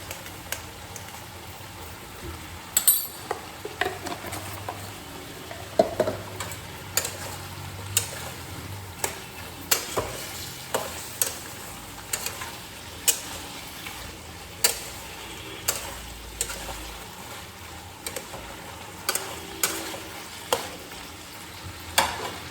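A spoon stirs a vegetarian vegetable curry with bori (lentil dumplings) in a pan, making soft scraping strokes and light clinks at irregular intervals over a faint, continuous simmering sizzle.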